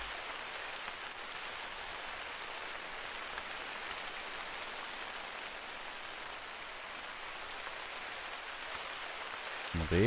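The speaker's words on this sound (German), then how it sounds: "Aber der Regen, der ist heute laut hier." Heavy rain in the video game theHunter: Call of the Wild, a steady, even hiss of falling rain at moderate level throughout, with a brief low thump at the very end.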